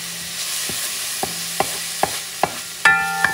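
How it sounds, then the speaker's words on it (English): Sofrito and onions frying in a pot for Puerto Rican arroz mamposteao, a constant soft sizzle punctuated by five or six distinct spoon knocks and scrapes against the pot, with a sharper clank near the end. "sofrito and the onions. And mix things up for a few seconds,"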